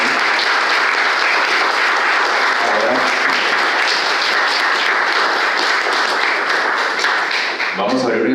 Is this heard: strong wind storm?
no